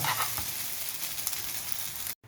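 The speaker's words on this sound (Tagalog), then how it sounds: "Ganyan lang po ang magsangag ng kanin guys." Garlic fried rice (sinangag) sizzling in a pan: a steady, close hiss of frying that runs continuously before cutting off abruptly at the end.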